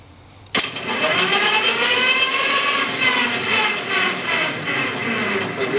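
A sudden loud start gives way to a steady, rising electric motor whine as the rear wheels of a 1969 Austin Healey Sprite EV conversion spin on test, holding close and strong with layered tones for several seconds.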